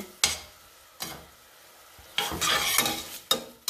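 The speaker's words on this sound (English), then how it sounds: "And constantly move your onions around." Onions sautéing in a saucepan for tomato sauce, a close sizzle punctuated by repeated scraping stirs of a utensil across the pan, coming in short bursts with quiet gaps, no voices.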